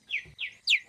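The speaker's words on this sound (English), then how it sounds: "It sounds like birds chirping." Three bright, quick bird chirps, each sliding downward in pitch, come in a steady sequence with short gaps between them. The last chirp is the loudest, and no other sounds are present.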